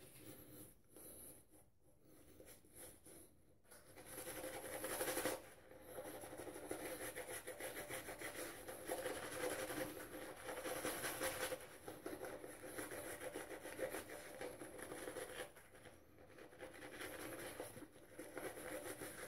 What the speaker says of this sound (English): Get our lather on here.